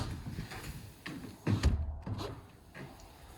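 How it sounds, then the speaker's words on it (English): Race doors on a 2021 Trails West RPM 28GN gooseneck horse trailer swing and latch, producing a few close knocks and clunks with one heavier thud in the middle. "Race doors."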